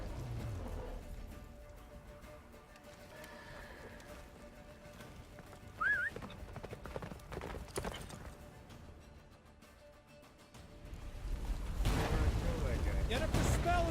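Roach, the horse in The Witcher 3, gallops in a steady rhythmic clip-clop of hooves, with voices and a swelling rumble of game effects building toward the end.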